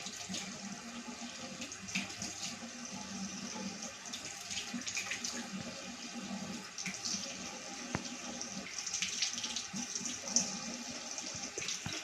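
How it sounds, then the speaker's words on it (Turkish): A bathroom tap runs steadily into a sink while someone washes their face, giving continuous close splashing and hiss with small irregular spatters throughout and no talk. "Şimdi yüzümü yıkayacağım."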